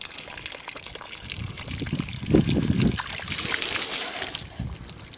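Water is poured out in a splashing, trickling stream that swells in the middle and then turns into a brighter, hissing rush toward the end.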